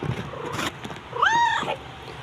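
A cat meows once, close and clear, in a home kitchen where someone is stripping moringa leaves for cooking, after a stretch of low background clatter.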